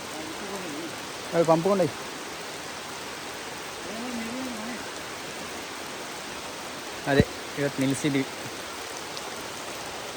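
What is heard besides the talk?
heavy rain falling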